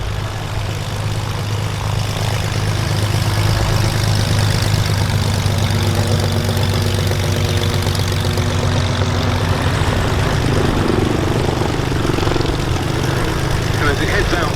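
A Grumman Wildcat propeller fighter performing at the Duxford summer air show gives off a steady, sustained engine drone that holds throughout, with a public-address voice over it.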